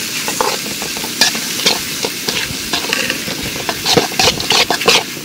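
Onions and two chillies sauté in an oiled pan, a continuous close sizzle broken by irregular scraping and clacking stir strokes.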